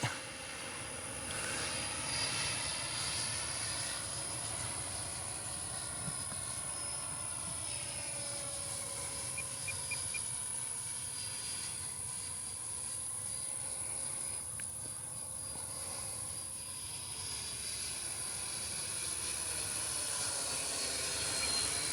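A Freewing A-6 Intruder 80mm electric ducted fan model jet on its first flight, giving a steady high whine that rises and falls in pitch as it passes overhead, continuous and fairly distant, without talk.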